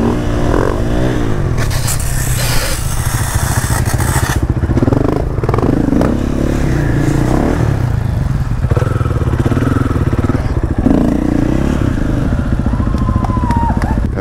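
A motorcycle roars continuously at close range for a wheelie, its engine revving and straining with rattly, scraping texture and shifting pitch throughout.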